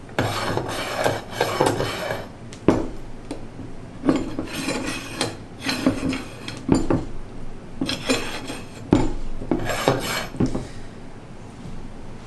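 A Harbor Freight (Pittsburgh) pipe clamp end is slid along its metal pipe, producing rough, grating metallic scrapes and clunks in repeated close bursts with brief pauses between pushes, no speech.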